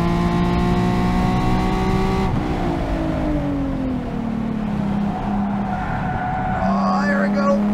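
A mildly modified Nissan 370Z laps a race track, its engine loud and close as it drones, shifts and climbs back through the revs, with some tire noise.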